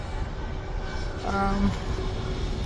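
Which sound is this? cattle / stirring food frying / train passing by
train passing by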